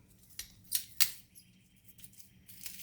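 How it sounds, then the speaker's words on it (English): Canna plant's spent blooms are snipped off with shears, a few quiet, crisp clipping snaps close by, spaced irregularly over a faint rustle of leaves. "See, these are all the spent blooms, and I just take that and cut it off."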